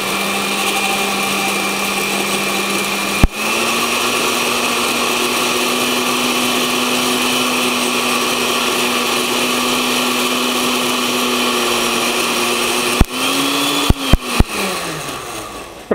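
A countertop blender whirs loudly and steadily, blending a lime batida cocktail, its motor holding pitch for a long stretch before a few clicks and a winding-down whine at the end.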